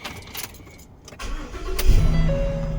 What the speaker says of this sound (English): And I'll start the truck up.